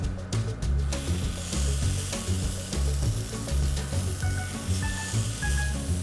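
Fig and lamb skewers frying in a pan, a steady loud sizzle and crackle that runs unbroken throughout.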